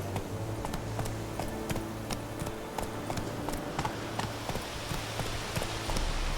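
Roach the horse trotting in The Witcher 3, a steady run of sharp hoof clip-clops over a constant low rumble of game ambience, with no voice over it.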